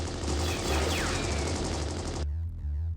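Rapid magical shots from Tosaka in an anime fight pound in a loud, continuous burst like machine-gun fire, then cut off abruptly near the end. Music plays underneath.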